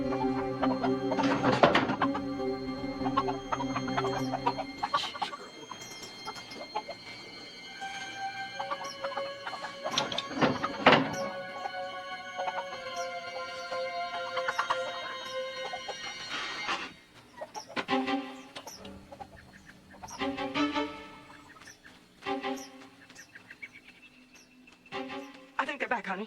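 Hens cluck near a chicken coop, repeated throaty calls and a few longer drawn-out cries coming close and fairly loud in irregular bursts.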